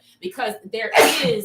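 A single loud human sneeze bursts out at close range partway through, right after someone speaks, with talk resuming around it.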